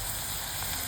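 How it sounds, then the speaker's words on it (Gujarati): Onions frying in a pan for a home-cooked lunch of cashew karela and dal dhokli, giving a steady, close sizzle with an even hiss and no pauses. "મસ્ત ડુંગળીને આપણે ચડવા દઈશું"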